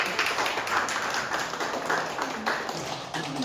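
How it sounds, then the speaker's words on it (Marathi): An audience claps to welcome guests at a Shivrajyabhishek Day celebration in Barcelona, a steady wash of applause from many hands lasting throughout at moderate volume. "आपण टाळ्याच्या गजरात"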